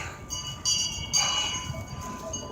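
A town crier's hand bell rings repeatedly in bright clanging bursts, heard from a short distance over outdoor background noise on Boston Common.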